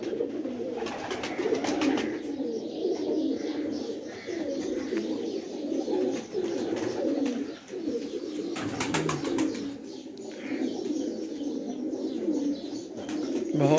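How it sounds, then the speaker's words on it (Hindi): Kasuri pigeons on a rooftop in Moch, Mianwali, keep up a steady chorus of soft, rolling coos, with occasional chirps and a brief flutter of wings. "खालिद न्याज़ साहब के पास जी कसूरी कबूतर भी मौजूद हैं जी।"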